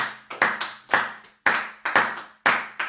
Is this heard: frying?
no